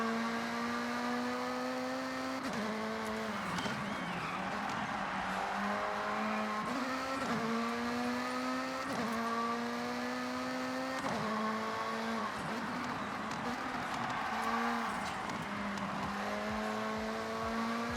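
A race car in the Forza Horizon 6 video game revs a high-pitched engine and shifts through the gears again and again, each upshift dropping the whine before it climbs once more, loud and steady throughout.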